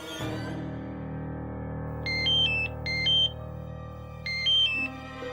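A phone rings with three bursts of electronic trilling tones, spaced a second or so apart, over a quiet background hum.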